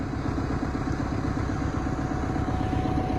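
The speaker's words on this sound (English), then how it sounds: "Had to get the tractor warmed up." A tractor engine idling steadily while warming up on a farm in bitter winter cold, around -17 degrees, a constant low rumbling drone with a faint clatter, close and unbroken.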